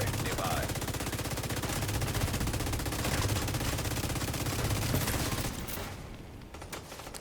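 Sustained machine-gun fire in a video game, a fast, steady stream of shots close and loud for several seconds before cutting off and trailing into quieter scattered noise, with faint talk underneath.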